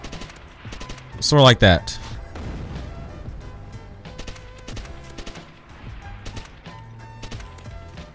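MP40 submachine gun fire in Call of Duty: World at War online multiplayer, with quick clattering shots and mechanical rattles spread through the clip, a loud burst near the start, and someone talking over it.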